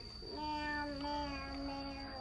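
A small child imitates a cat's meow with a single drawn-out, wavering vocal cry that slides in pitch. A steady high-pitched tone and faint background noise continue underneath.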